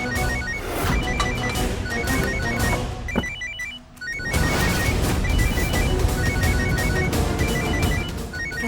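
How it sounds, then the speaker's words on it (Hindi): A mobile phone rings in a domestic drama scene, a repeating electronic ringtone pattern sounding steadily and fairly loud, briefly interrupted by a thud before resuming, with no talk over it. "ये तो राधिका का फोन बज रहा है।"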